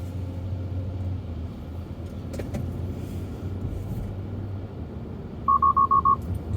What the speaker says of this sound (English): Just got an alert there.